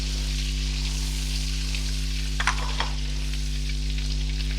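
Butter, about 50 grams, sizzling in hot oil in a pot for restaurant-style butter chicken, a steady close frying hiss with a couple of brief stirring clinks near the middle.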